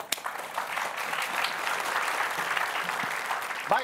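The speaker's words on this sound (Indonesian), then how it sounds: "Tepuk tangan untuk mereka" Audience claps for performers about to play: a full, even wash of many hands clapping throughout, with a brief voice and a sharp sound near the close.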